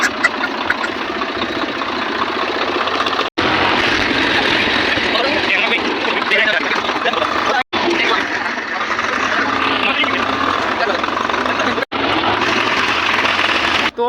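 A tractor in a farm field, set up for hauling cow-dung manure, runs with a steady mid-pitched engine drone. People talk over it, and the sound cuts out briefly a few times.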